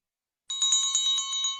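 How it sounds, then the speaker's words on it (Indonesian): A small bell starts ringing after a brief silence, giving a rapid series of bright, clear strikes that blend into one sustained ring, moderately loud and alone. "Di sini ada gambar lonceng yang sedang bergoyang ya."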